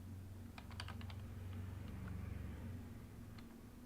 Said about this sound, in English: I just want to use my normal keyboard like I can in Ableton, where I just hit A, W, S, E, D, F, T, G, Y, H, U, and J,